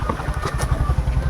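A motor vehicle engine running with a steady low rumbling throb, close and fairly loud, no speech.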